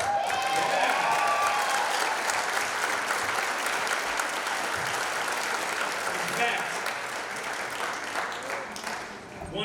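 A school audience at a high school event bursts into a loud, sustained round of applause and cheering that fills the whole stretch, tapering slightly near the end.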